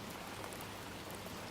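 Steady rain falls on a city street at night, a dense, even hiss of drops with no breaks and no voices.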